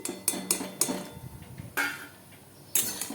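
Fried lentil dumplings are lifted from a pan into a bowl, heard as a few sharp, close metallic clinks and scrapes of a utensil against cookware, with quiet gaps between them.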